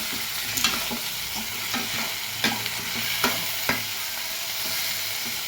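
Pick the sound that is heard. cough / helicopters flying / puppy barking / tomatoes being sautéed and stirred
tomatoes being sautéed and stirred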